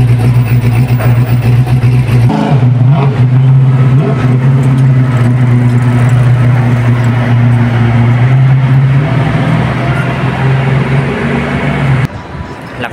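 A car moves along a downtown Detroit street, a loud, close engine drone holding steady and rising slightly before cutting off, with traffic noise around it.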